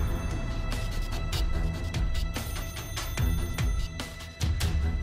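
Telephone in The Stanley Parable video game ringing repeatedly in a steady rhythm of bright, fairly loud rings over a low background drone, with no talking.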